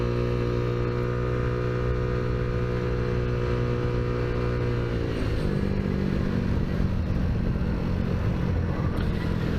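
The engine of a Tao Tao Zummer motorbike runs at a steady idle hum, then rises in pitch as it revs and pulls away, droning loudly and continuously close by.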